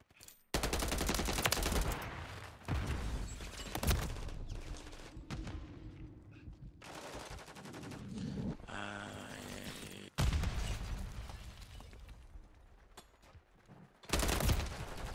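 Gunfire in the Modern Warfare 3 video game: loud bursts of automatic fire and blasts in dense stretches, broken by short quieter gaps and a sudden restart near the end, without speech.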